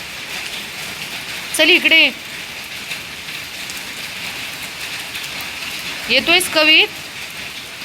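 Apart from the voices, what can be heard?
rain falling on hill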